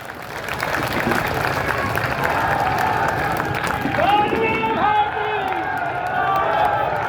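A crowd at an outdoor Congress election rally in Deori keeps up dense, sustained applause and clapping, with a few raised voices and shouts rising above it near the middle.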